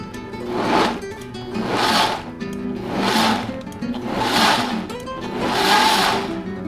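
A blender pulses in five evenly spaced bursts, each a loud whirring surge that briefly eases before the next.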